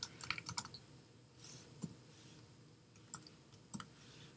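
Quiet clicks of a computer keyboard come in short irregular bursts as someone types fake information into a table in the Umbraco content editor, with no talking.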